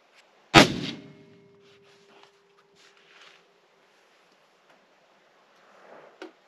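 A single loud, sharp shot from an AR-15 rifle fitted with an oversized suppressor cracks nearby and rings briefly before fading into quiet outdoor background, followed by a faint shuffle.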